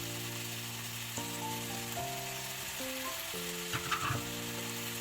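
Finely chopped carrots, beans and cabbage sizzle steadily in a hot pan for fried rice, with occasional stirring scrapes and clinks under the continuous frying hiss.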